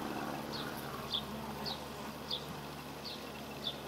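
An Asian hornet hovers among honeybees, its faint buzzing steady with several brief, sharper wingbeat bursts recurring about every half second.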